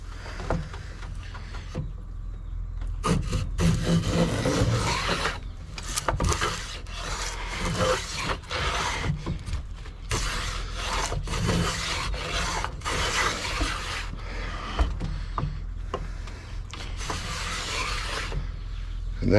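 A Stanley Miller's Patent No 141 plane shaves wood in a run of repeated rasping strokes, close and fairly loud, with short pauses between passes.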